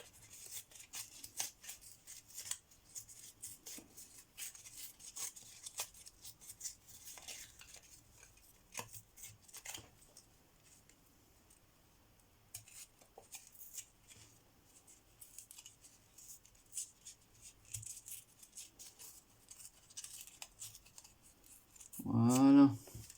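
Scissors snip out a stamped paper tag, giving soft, sporadic cutting clicks and rustles close by. A voice speaks briefly at the end.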